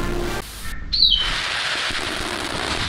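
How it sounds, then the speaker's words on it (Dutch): Birds calling at Berlin Zoo: a short bright chirp rises over a steady outdoor wash of ambient noise, with a few brief tweets near the start of the scene and no talking. "Birds flying around, mate."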